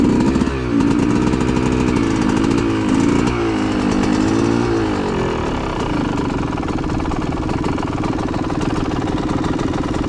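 A Yamaha YZ125 two-stroke dirt bike engine buzzes loudly and continuously on a trail ride lap, its pitch wavering with throttle changes early on before settling into a steady drone.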